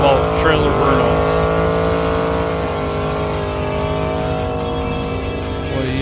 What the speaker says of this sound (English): It's all about trailer burnouts.